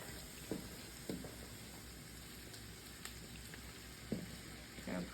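Cabbage hits a hot skillet with bacon on medium heat, giving a steady broad sizzle and crackle throughout, with a few louder bursts as pieces are pushed around the pan.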